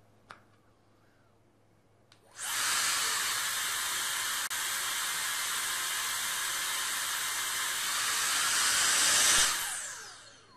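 Wind buffeting a DJI Osmo Action 4 action camera with no wind-reducing accessory fitted: after a quiet start, a loud, steady roaring hiss begins, holds for about seven seconds, swells slightly, then cuts off.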